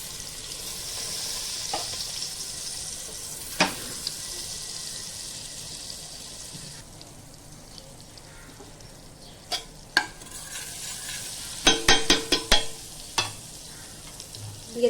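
Butter with a little ghee sizzles in a pot as the base for chicken biryani, a steady close frying hiss with scattered sharper pops and crackles toward the end.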